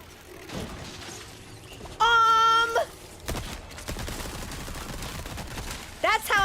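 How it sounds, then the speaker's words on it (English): Machine gun fire in the Resident Evil video game, sharp bursts of gunshots among game sound effects, including a tonal mechanical sweep and a rising whine, with a person talking at times. "That's how I work machine guns, right?"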